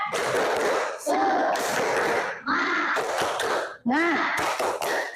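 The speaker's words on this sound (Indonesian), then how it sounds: "Kita cek untuk kesemangatan kamu dalam belajar dengan tepuk semangat." Classroom students performing a tepuk semangat spirit clapping chant: loud, close bursts of rhythmic claps mixed with shouted group voices, coming in several rounds with short breaks between them.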